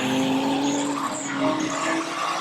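Stock cars and bangers racing around the Onchan Raceway oval, engines roaring loudly and continuously with tyres squealing and skidding as cars collide and scrape against each other.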